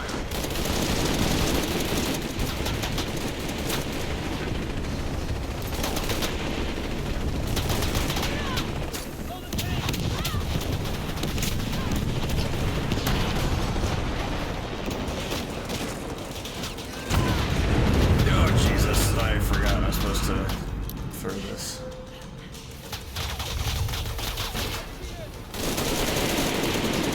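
Sustained heavy gunfire in a video game, dense continuous bursts and rumbling booms filling the mix with little pause, under intermittent talk.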